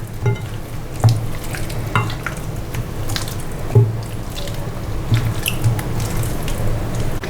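One kilogram of chicken legs is worked by hand into spices, giving wet squelching and stirring sounds with irregular soft slaps and clicks, close and moderately loud, without talking.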